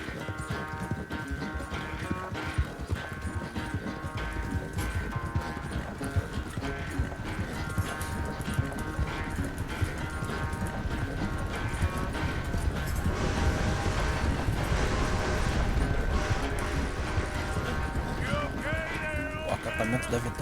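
Hooves pound in a steady galloping rhythm as a horse runs in Red Dead Redemption 2, under music and game dialogue, with a short whinny late on.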